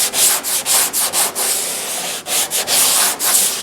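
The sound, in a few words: sanding body filler with a long board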